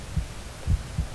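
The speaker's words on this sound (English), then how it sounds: "Again, you can hear the heartbeat." Heartbeat effect in the baseball video game MLB 2K11 at a tense pitching moment: three low, muffled thumps spaced evenly apart over a faint hum, with no voices.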